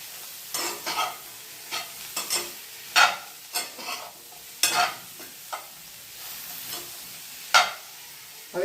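Fresh green grains with their stalks are stirred in a hot pan on a gas stove, giving a soft steady sizzle broken by about a dozen sharp spoon scrapes and clinks at irregular intervals, close and clear with no talk.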